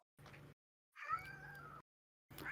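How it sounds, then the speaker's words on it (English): A cat meows three times, short then long then short, close and clear with silence between the calls. "I hear a cat."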